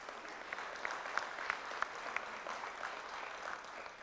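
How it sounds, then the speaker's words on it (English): Audience at the NDTV Food Awards 2024 ceremony breaks into a steady round of applause, dense clapping with a few sharper claps standing out, moderately loud throughout. "one big round of applause"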